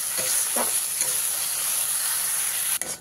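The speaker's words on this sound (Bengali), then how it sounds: "প্রায় আমি এখানে 2 থেকে 3 মিনিট আবারও ভালো করে মশলাটাকে কষিয়ে নেব।" Spice paste with poppy seed and cashew paste being sautéed in a pan for rui posto, a steady close sizzle with brief stirring scrapes and a sharp clink near the end.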